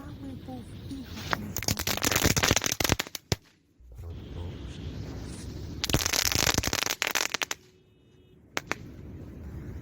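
Dense bursts of crackling firework explosions, loud and close, coming in two long rattling waves with brief quiet gaps between them.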